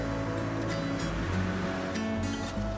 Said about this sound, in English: We headed to the beach one more time to watch the surfers and to play in the sand for a little bit.